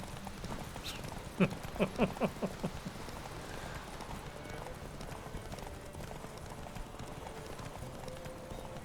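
Roach, the horse in The Witcher 3, producing a short run of distinct hoof clip-clops near the start, then fading under background ambience while someone speaks briefly.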